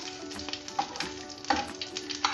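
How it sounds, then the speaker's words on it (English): Ingredients for a breadfruit curry fry steadily in a hot pan, a close, continuous sizzle with crackling pops and the scrape of stirring, no voices. "Fry it until you smell the flavor"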